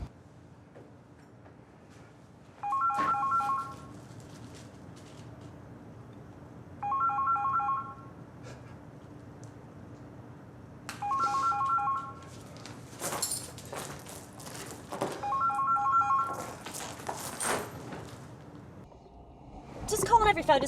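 A phone rings repeatedly with no answer, four evenly spaced electronic ring bursts over a steady low hum, with a few louder clatters and knocks near the end.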